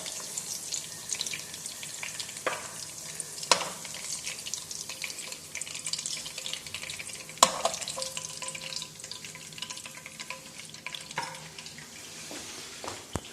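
Crumb-coated fish fries in a pan with a steady broadband sizzle, broken by a few sharp clinks and splatters, with a faint watery hiss underneath throughout.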